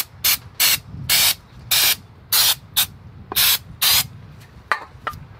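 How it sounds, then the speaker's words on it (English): Brake parts cleaner sprayed from an aerosol can onto a travel trailer's wheel spindle where old grease seeped past the seal, in about nine loud, close hissing bursts of varying length, some short and clipped, with a faint rattle between them. "So I'm just going to hit that with brake parts cleaner."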